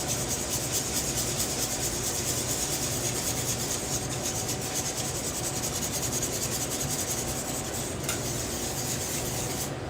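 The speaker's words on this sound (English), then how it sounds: "And then I'm just going to whisk this all together." A whisk rubs and scrapes steadily through a creamy, spiced sauce with seasoning, a continuous close rasping rhythm with no talk over it.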